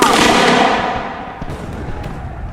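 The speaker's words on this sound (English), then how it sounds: "One fires while the second line reloads their muskets" Musket volley fired by a line of soldiers in a historical battle scene, a loud close crackling burst that rolls away into a fading echo and a few scattered pops.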